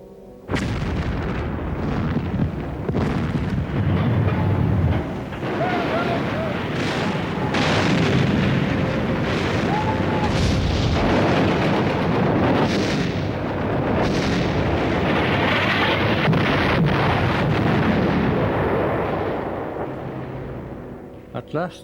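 Enemy gunfire and artillery rumble during a WWII landing barge departure, a continuous barrage of booms and bursts sustained for about twenty seconds, with someone narrating over it.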